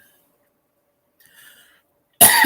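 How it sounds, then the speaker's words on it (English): One abrupt, loud cough from a nearby man at the very end, after near silence and a faint breath. "I cough."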